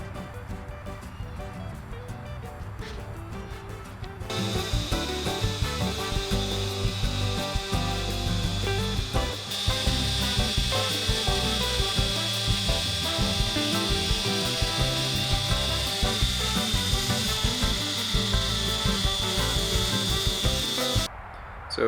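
Power sanding of wooden trim on a sailboat under restoration, a steady loud rubbing buzz that starts after a few quiet seconds and runs continuously, close up.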